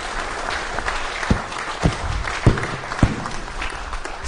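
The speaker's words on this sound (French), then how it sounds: "je vous demande d'applaudir la population" An audience applauds at a municipal gathering, a steady moderate patter of clapping with a few louder claps standing out, no talk over it.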